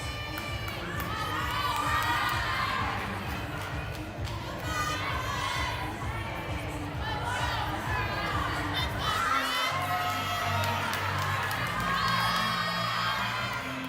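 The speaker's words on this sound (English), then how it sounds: "hear a team cheering her on as she chalks up and gets back on the bar" A women's college gymnastics team in an arena shouts and cheers loudly and continuously for a teammate on the bars, with high excited voices and crowd noise filling the space and occasional thuds underneath.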